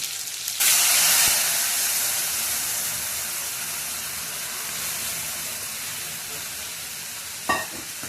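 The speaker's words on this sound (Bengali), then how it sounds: "টমেটোগুলো ভাজা হয়ে গেছে, এখন ডালটা দিয়ে দেবো।" Lentils are tipped into a hot pan of fried tomatoes, bringing a loud burst of sizzling that settles into a steady frying hiss, with a brief clatter near the end and no voices.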